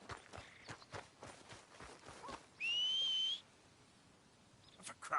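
Horse hooves clopping in Red Dead Redemption 2, a run of close, fairly quick footfalls in the first half, then a sharp rising whistle and a quieter stretch before a few more hoof beats.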